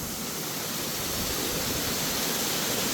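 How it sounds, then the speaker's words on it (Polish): Roaring waterfall at thermal baths in the Ecuadorian valley town of Baños, a loud, steady broadband rush of falling water heard close and unbroken, with no voices over it. "Spada ta woda z Kubana. Fajny wodospad."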